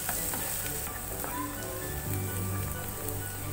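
Chopped onion sizzles steadily in a hot pan with turmeric powder for kohlrabi leaf thoran, a continuous close frying hiss with faint stirring scrapes and no talk.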